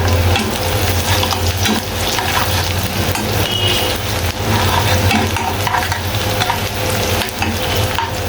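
Onion and garlic paste fries with Malabar spinach in a pan, giving a steady, loud sizzle with stirring scrapes that continue without a break and no talk over it.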